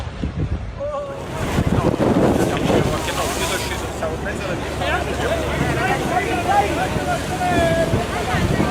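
Strong wind gusts roar across Naples' Beverello ferry port, blending with churning water and boat noise in a loud, continuous wash that swells and buffets throughout, with faint voices in the background.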